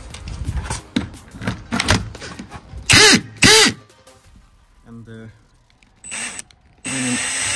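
A power drill boring a small pilot hole into a wooden wall stud in a home, heard as a few short, loud bursts of whirring between quieter handling noises, close up.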